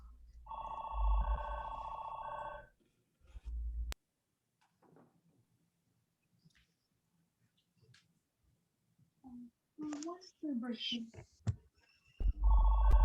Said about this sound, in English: My telephone is ringing, so you're going to get a little bit of that noise.